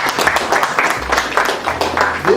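An audience at a school gathering breaks into applause, a dense burst of clapping with a low rumble beneath, some voices mixed in.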